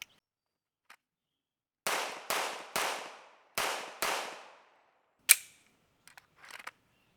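An H&K 45CT LEM compact .45 pistol fires five sharp shots in a quick series at an outdoor range, each crack followed by a short decaying echo, with a later metallic clink and faint clatter.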